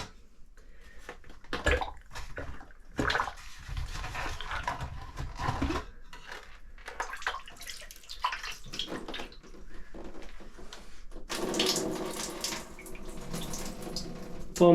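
Water runs steadily from a shower in a shower cabin while an aquarium filter is rinsed, a continuous rushing spray that shifts in tone and grows louder and brighter toward the end.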